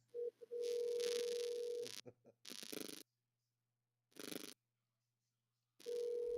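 An unanswered telephone call rings out in repeated tones with silent gaps between them, heard faintly through a phone line.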